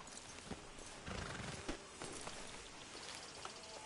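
A horse in Red Dead Redemption 2 clip-clops at a walk with steady hoof beats and lets out a whinny over a busy outdoor game ambience, with no voices.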